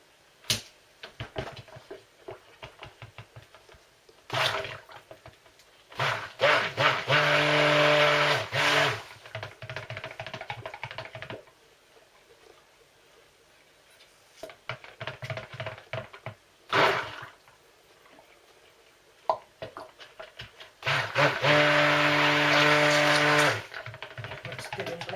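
Handheld stick blender whirring in bursts as it mixes titanium dioxide into distilled water for a white soap base, with loud stretches separated by quiet pauses and small clicks.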